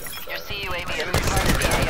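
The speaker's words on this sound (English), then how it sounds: "They got sentry gun, sentry middle." A sentry gun in a first-person shooter video game fires a rapid, sustained burst of gunfire, loud and close, mixed with other game sounds and voices.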